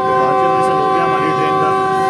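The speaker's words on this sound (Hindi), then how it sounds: "ये बिल्कुल मेरे सामने से आ रही है कराची पेशावर के दरमियान चलने वाली 13 अब आवाम एक्सप्रेस" Awam Express passenger train on the Karachi–Peshawar route approaching on a loop line, its horn sounding as a sustained steady tone over the rumble of the approaching train, fairly close and loud.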